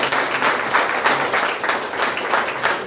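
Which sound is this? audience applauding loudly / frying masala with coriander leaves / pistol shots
audience applauding loudly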